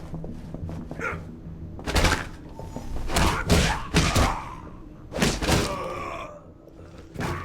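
Fist blows land on a man in the video game Alpha Protocol, a series of heavy thuds and thumps in irregular bursts, with grunts and groans from the fighters mixed in, close and fairly loud.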